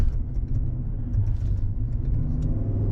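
2021 Cadillac Escalade engine rumbling steadily at about half throttle while climbing an off-road spot with wheel lift, a deep continuous drone close up with no voices.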